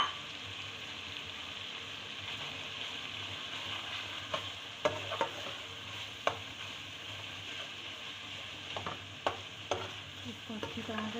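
Stuffed round gourd masala frying in a pan, a low continuous sizzle broken by irregular spoon scrapes and clinks against the pan that grow busier toward the end.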